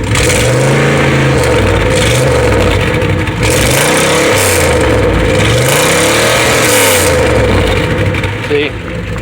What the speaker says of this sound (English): the very broken Cherry Bomb Vortec mufflers on each side. And let me rev it up for you.